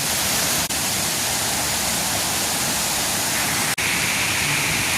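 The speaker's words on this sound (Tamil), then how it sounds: "இங்கே பாருங்க பயங்கரமான தண்ணி வந்து இருக்குது." A loud, steady rush of water roars without pause, a dense broadband wash that fills the whole clip.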